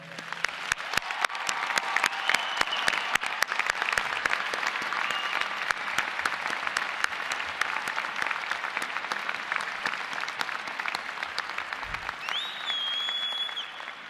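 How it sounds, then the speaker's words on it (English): Large commencement crowd at the University of Utah applauding supporters, a long sustained roar of dense clapping that stays loud and even throughout, with brief whistles near the end. "Let's give the other people here a round of applause for helping."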